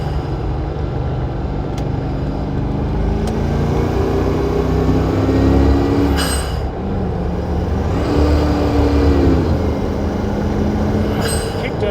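A Land Rover twin-turbo V8 ute pulls hard in second gear on a hill, heard from inside the cab as a loud, steady engine drone whose pitch climbs twice, with no talking.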